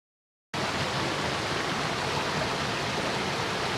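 A woodland waterfall and stream pour close by in a steady, loud, unbroken rush that begins abruptly after a brief silence and holds constant throughout.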